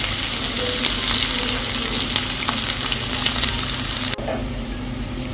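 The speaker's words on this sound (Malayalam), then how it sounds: "ഇനി നമുക്ക് നമ്മളെടുത്ത് വെച്ച സവോള മറ്റുള്ള ഐറ്റംസൊക്കെ ഒന്ന് വഴറ്റിയെടുക്കാം" Sliced onions sauté in hot coconut oil in a pan for brinjal moju, giving a loud, steady sizzle with stirring scrapes and one sharp clink near the end.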